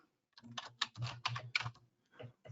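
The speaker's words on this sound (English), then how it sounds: "If I start typing in someone's name," Bursts of keyboard typing, quick clustered key clicks with short pauses between groups, close and clear in a quiet room.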